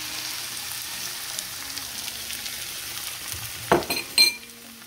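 Nopales cactus paddles fry with egg in a pan, a continuous crackling sizzle that carries throughout, broken near the end by a couple of sharp utensil knocks against the pan.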